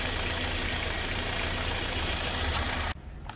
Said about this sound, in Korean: 공회전을 너무 오래 못할 것 같아요